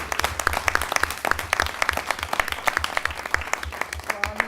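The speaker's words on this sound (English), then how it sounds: "we just want to give him a round of applause" Audience applause honouring Carl Westmoreland at a Cincinnati lunch-and-learn event, steady dense clapping from a room of people sustained throughout, fairly close.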